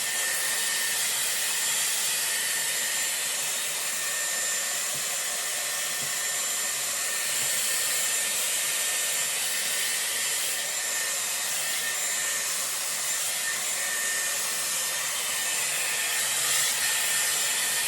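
A Dyson Airwrap styler blows hot air steadily as hair is dried with its round brush attachment, a constant close whooshing hiss with no pauses and no voices.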